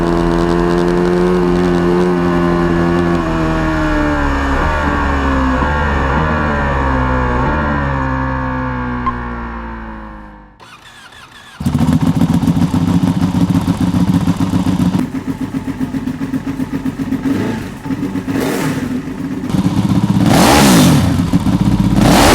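A Ducati 1299 Superleggera motorcycle with a race exhaust at Mugello circuit, its engine held at high revs in a loud, harmonic howl that gradually drops in pitch, cuts out briefly, then returns as a rough, crackling roar with repeated throttle blips.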